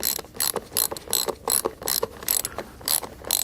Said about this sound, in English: start it by fingers always, and it's called a nylon locking nut, and righty-tighty with your wrench